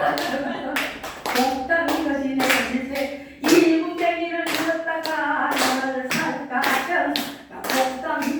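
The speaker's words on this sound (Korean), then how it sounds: "박수를 이렇게 딱딱 맞춰 쳐줘야 노래가 춤춤춤 더잘" Audience clapping in time to a song, sharp regular handclaps on the beat over singing and music, close and prominent for the whole stretch.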